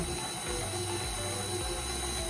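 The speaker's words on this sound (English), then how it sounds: "right now what's mixing into the cake mixer is the applesauce, the chocolate chips, the vanilla, the eggs" A cake mixer churns applesauce, chocolate chips, vanilla and eggs for zucchini brownies, giving a close, steady mechanical whir with faint rhythmic clicking.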